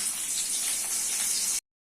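Sliced onions hit hot oil in a pan and sizzle with a loud, steady hiss that cuts off abruptly into silence.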